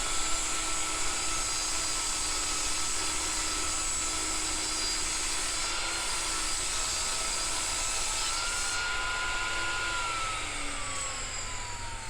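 A power saw rips a 3/4-inch pine board lengthwise into a 1.5-inch-wide strip, giving a loud, steady high whine and cutting noise that holds for about ten seconds before easing slightly near the end.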